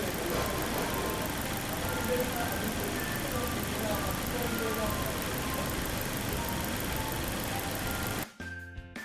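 A car engine idles steadily during an oil pressure switch test, a constant dense mechanical hum that holds to near the end before cutting off abruptly.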